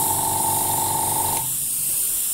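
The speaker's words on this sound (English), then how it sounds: "we're able to get some really wide spray patterns with this airbrush" A steady, loud Iwata Eclipse airbrush hiss with a pulsing motor hum underneath, spraying wide patterns; the hum stops partway while the close, even spray continues.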